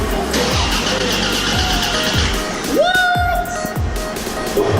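A Buick Grand National G-body engine cranks over on a newly installed mini starter and fires, a loud, close burst of starter whine and engine noise rising under background chatter.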